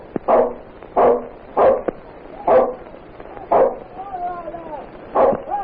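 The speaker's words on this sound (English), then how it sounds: "Ginger sniffed the smoke and started to bark." A dog barks repeatedly in a steady rhythm, roughly once a second, loud and close, with a short whimpering yip between barks, produced as a sound effect for a 1935 radio drama.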